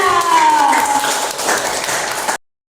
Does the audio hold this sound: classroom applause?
yes